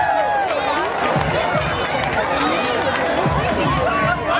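A crowd cheers and shouts at a chihuahua race, the live audience encouraging the small dogs toward the finish. The sound is a continuous loud hubbub of excited voices and whoops, without pauses.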